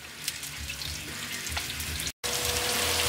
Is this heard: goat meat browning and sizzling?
yes